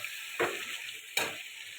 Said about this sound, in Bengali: চিকেনটা জল ছেড়ে দিয়েছে, তাই আঁচটা জোরে রেখে ভালো করে 5 মিনিট কষিয়ে নেব।